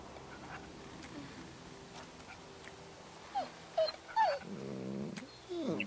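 A dog gives a few short low growls and whimpers close by in a quiet setting, starting after a stretch of near silence and ending in a longer rumbling growl.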